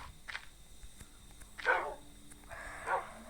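A dog barking a few times nearby, short, fairly faint barks spaced apart over a quiet background.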